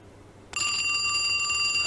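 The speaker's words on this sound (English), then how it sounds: "Actually, I have a phone ringing sound effect, don't I?" Phone ringing sound effect played during a live comedy show, a bright electronic bell ring that starts abruptly after a quiet moment and continues steadily and loudly to the end.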